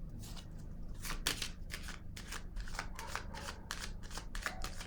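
Oracle cards are shuffled and handled in quick, papery riffles and flicks, a continuous close rustle with crisp bursts and no talking.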